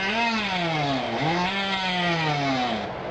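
A kazoo blown and hummed through gives a loud, buzzy, reedy tone that slides down in pitch, dips, then rises and holds, in one continuous drone of about three seconds.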